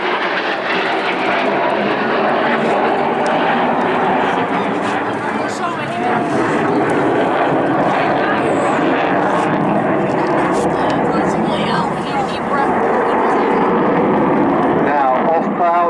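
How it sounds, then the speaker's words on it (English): RAF Typhoon FGR4 jet on full afterburner at an airshow, a loud, steady broadband roar that fills the whole clip with no break, with voices talking faintly beneath it. "Now full afterburner."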